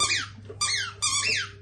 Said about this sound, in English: He loves them squeaky balls. It's one of them Kong balls.